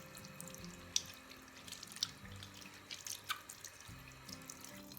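Honey and beeswax cold process soap rinsed under a running tap, with steady splashing water and scattered drips and small clatters close by, with no voices.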